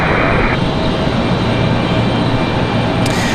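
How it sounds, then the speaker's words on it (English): A NetJets Cessna Citation Sovereign business jet arriving at Raleigh-Durham International, its engines a loud, steady broadband roar that holds evenly throughout without voices. "This one's going to be coming in on a Cessna Citation Sovereign."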